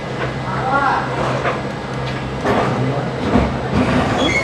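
Rail coaches of the Amravathi Express (17226, Hubballi route) being coupled to the Shanti Nilayam Express, a continuous low mechanical rumble with a few clanking thuds near the end, while people talk throughout.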